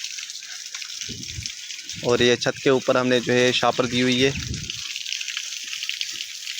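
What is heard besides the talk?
morning rain dripping on a village house roof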